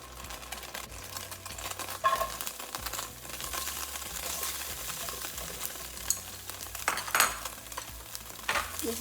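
Garlic, onions and ginger frying in a pan for a Thai pepper steak, giving a steady, broad sizzle with scattered stirring scrapes and clinks throughout, fairly close and continuous with no talking.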